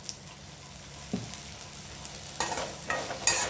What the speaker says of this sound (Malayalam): നല്ലവണ്ണം ഒന്ന് മസാല നമുക്ക് നേരെ ഇളക്കാം.